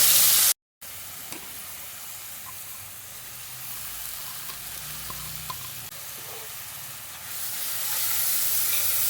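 Onions fry in hot oil with a dried red chilli, giving a steady close sizzle and hiss that pauses briefly near the start and grows louder toward the end.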